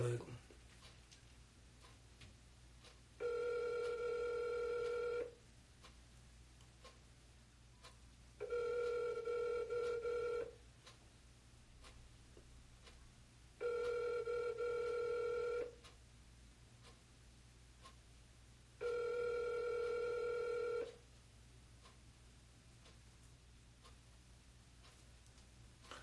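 A telephone rings four times in slow, evenly spaced bursts of about two seconds each. The rings are clear against a quiet background, and the call goes unanswered.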